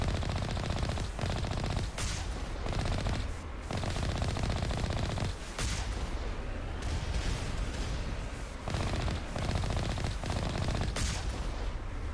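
Turrets in Mass Effect Legendary fire continuous, dense automatic bursts that fill the whole stretch, loud and sustained, with a few brief gaps and heavier booming hits along the way.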